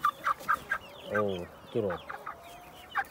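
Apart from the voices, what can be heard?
Brahma chicks clucking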